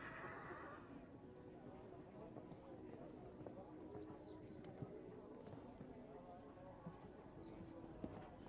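A horse whinnies at a show jumping event, a 12-year-old gelding competing in an arena, with a brief neigh near the start followed by faint hoof clops and distant bustle while an announcer talks throughout.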